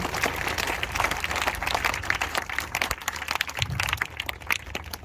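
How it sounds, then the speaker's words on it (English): Scattered applause from a school assembly crowd, moderately distant, clapping irregular and fairly soft. "So big round of applause over again for this beautiful assembly"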